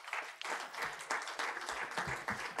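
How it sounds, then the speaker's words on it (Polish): Short burst of clapping from people attending a city council session, moderately dense applause heard from a distance and fairly quiet, rising and falling over a few seconds. "Także brawa dla nich."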